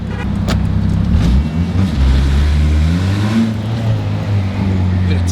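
A turbocharged B-series engine in an Acura TSX accelerates, its revving note rising and falling up close for several seconds as people talk over it.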